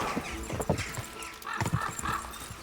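Horse hooves pound at a gallop in the medieval game Kingdom Come: Deliverance II, a rapid clip-clop rhythm up close with a brief whinny, while a voice cheers over it.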